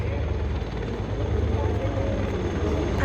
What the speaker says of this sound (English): Chetaks are versatile, lightweight, multi-role helicopters